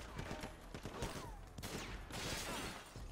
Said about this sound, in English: Dude, this gun sounds so awesome.